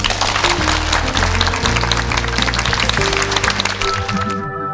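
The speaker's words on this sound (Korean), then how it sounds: "교수님께 힘찬 박수 드리면서" A lecture audience applauds the professor at the close of a four-day televised lecture series. The applause is steady, dense and fairly loud, sustained for several seconds with music playing underneath.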